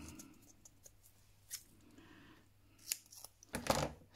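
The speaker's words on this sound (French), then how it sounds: "Ciseaux" A few quiet snips of scissors cutting paper for a Christmas card, close by, spaced irregularly with faint handling rustles between them.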